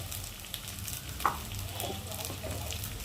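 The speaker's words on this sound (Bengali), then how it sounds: "লঙ্কার গুঁড়ো দিয়ে মশলাটা ভালোভাবে কষিয়ে নেবো" A spice paste with tomato, salt and turmeric fries in a pan, giving a faint, steady sizzle with a small clink partway through.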